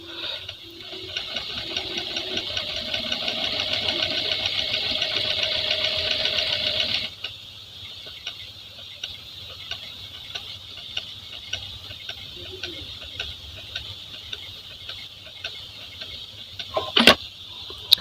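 A Jack A4f sewing machine stitching, with a fast even whirring run for about seven seconds before it slows into quieter mechanical ticking and then a sharp clack near the end. Close by, with no voices.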